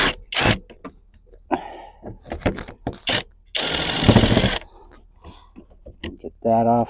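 A power tool, likely an impact driver, removes fasteners under rubber trim on a Ford Explorer, with short whirring bursts and one longer loud buzzing run amid clicks and handling noises, while someone talks between them.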